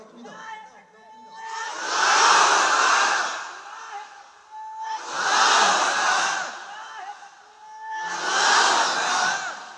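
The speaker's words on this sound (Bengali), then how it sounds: "সে দাঁড়িয়ে বাঘের বাচ্চার মতো 3টা তাকবীর দিবা" Someone shouts takbir three times in a strong, drawn-out voice at a religious sermon gathering, each long loud call followed by a pause, close and ringing over a quiet hall.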